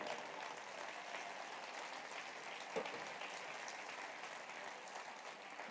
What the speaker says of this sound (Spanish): un aplauso al Rey bendito